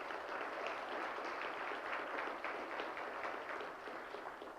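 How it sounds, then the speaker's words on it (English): An economic summit keynote audience fills a hall with steady, dense applause, a soft, continuous wash of many hands clapping that fades slightly at the end. "So let's give them a round of applause too."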